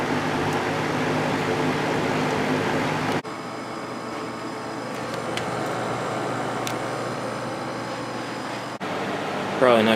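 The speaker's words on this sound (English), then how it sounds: "Got the Air King V20E box fan over here" An Air King V20E two-speed reversible box fan with a GE motor runs indoors with a steady broadband whoosh, its tone shifting abruptly twice as the speed or setting changes, with faint clicks along the way.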